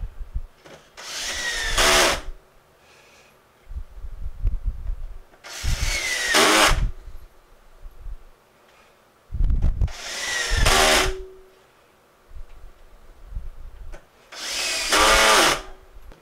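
A power drill drives screws to mount a wooden bowl blank on a lathe faceplate. Four loud, close whirring bursts, each about a second long, are separated by quiet pauses and faint handling knocks.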